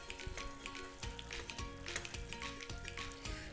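Chapati frying in a little oil on a stove turned up high, giving a steady close sizzle and crackle that runs without a break, with faint scraping now and then.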